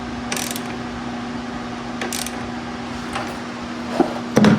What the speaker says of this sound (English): we don't want to forget to tighten this bolt here. this nut